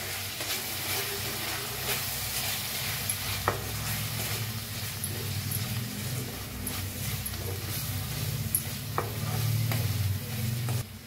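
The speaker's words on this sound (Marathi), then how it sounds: "भाजीला हे मिक्स करून घेऊया" A spoon stirs turmeric, red chilli powder and salt into vegetables in a hot pan, producing a steady sizzle and hiss with occasional scraping clicks of the utensil throughout.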